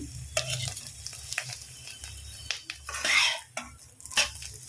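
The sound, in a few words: eggs frying in a pan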